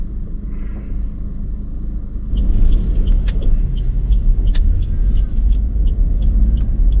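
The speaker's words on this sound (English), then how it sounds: "A little bit of traffic." A car drives along Stroud Green Road in light North London traffic, giving a loud, continuous low rumble from inside the cabin that swells after a couple of seconds, with faint ticking and muffled voices underneath.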